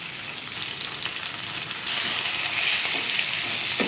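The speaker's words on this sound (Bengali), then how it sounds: "এটার মধ্যে আমি গোটা গরম মশলা দিয়ে দিলাম।" Whole garam masala spices sizzling in hot oil for a fish-head rice dish, a dense steady hissing crackle that grows slightly louder midway, close and alone without speech.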